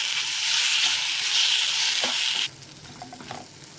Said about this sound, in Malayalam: തക്കാളിയും ചേർത്ത് നന്നായി ഒന്ന് വഴറ്റി കൊടുക്കാം.